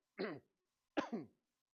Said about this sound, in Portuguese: Deixa eu tossir primeiro.